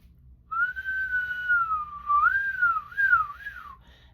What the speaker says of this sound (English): You can also whistle